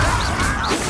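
A Bombarda blasting spell cast in Hogwarts Legacy lands as a loud, dense crash with a whooshing sweep, filling the whole second with a sustained roar of impact and debris.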